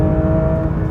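A Porsche 911 GT3 flat-six on track holds a loud, steady, high-pitched engine note at high revs for under a second, with no voices.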